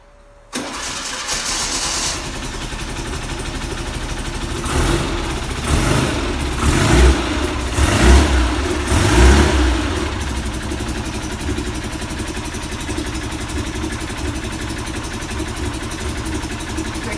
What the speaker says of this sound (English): she's a nice little engine. She sounds good, but we'll give her a fire up